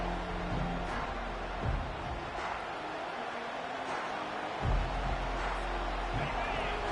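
Steady stadium crowd roar in a college football video game, Oregon vs Auburn, filling the background, a dense wash of distant voices with a couple of louder swells, continuous throughout.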